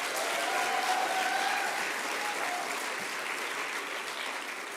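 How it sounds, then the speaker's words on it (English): Dense, steady applause from a crowded room for finalists at a schools challenge winners' announcement, continuous clapping at even strength throughout. "Ladies and gentlemen, can we give our finalists a round of applause?"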